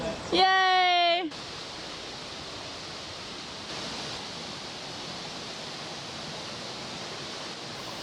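A waterfall on a Caribbean island pours in a steady, broad wash of rushing water, continuous and fairly close, after a short burst of a higher tonal sound at the start.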